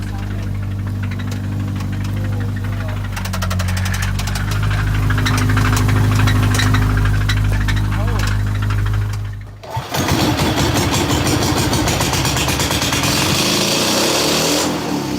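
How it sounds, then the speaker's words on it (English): A failing car engine knocks and runs unevenly with a steady low hum, then cuts to a harsher, louder rattling after a brief drop. "the engine finally gave out on the way to school this morning"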